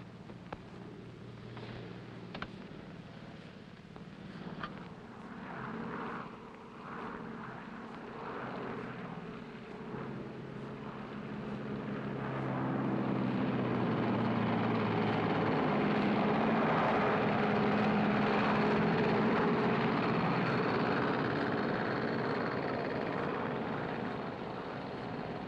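Passenger airliner engine on a flight, a low droning hum that builds into a louder, steady roar partway through and holds there.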